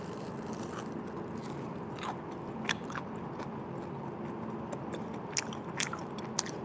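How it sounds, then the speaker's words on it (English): Repeated crisp bites into a crispy sweet rice cake with a crunchy shell and a chewy, sticky rice layer, sharp crunches landing every second or so, close and clear over a faint steady background hiss. "Did you hear that crunch?"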